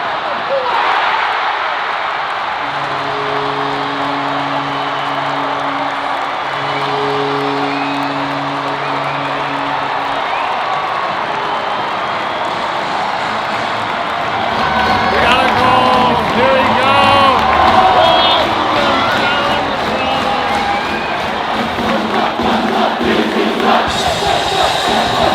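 Arena crowd at a Boston University hockey game, first a low murmur with a steady horn-like tone, then swelling into loud cheering and whooping in the second half, with voices talking near the mic.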